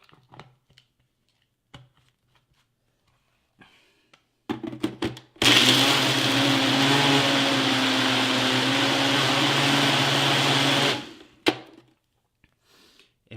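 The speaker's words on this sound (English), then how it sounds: "Handful of ice just to blend it up a little bit further." A countertop blender whirs through a spinach, vegan protein powder and ice shake, running loud and steady for about five seconds after a few short bursts, then cutting off to near silence.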